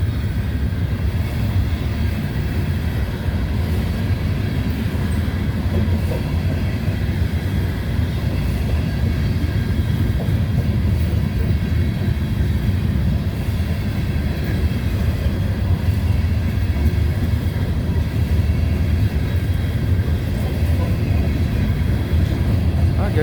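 A grain train rolls past on a mild day, a loud continuous low rumble and steady rolling roar of freight cars holding evenly throughout without a break.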